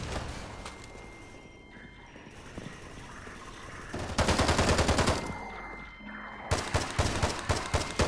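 Gunfire from a weapon in Half-Life 2: Raising the Bar Redux arrives in two loud, rapid automatic bursts, one around the middle and one near the end. Quieter game ambience sits between them.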